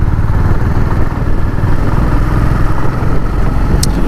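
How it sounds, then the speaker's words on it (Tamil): Honda H'ness CB350 motorcycle on a test ride, a loud constant engine rumble mixed with heavy wind roar throughout, with no talk. "இப்போ வந்து ஹைனஸ் ஓட்டிகிட்டு இருக்கோம்."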